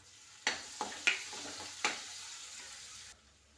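Green chillies drop into hot oil in a pan for a cauliflower and fenugreek-potato dish, giving three or four sharp sizzling bursts that fade between additions, close and fairly quiet with no talk.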